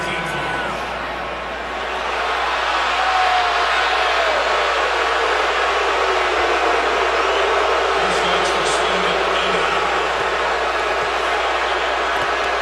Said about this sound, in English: It's about as loud as the crowd has been in the Dome tonight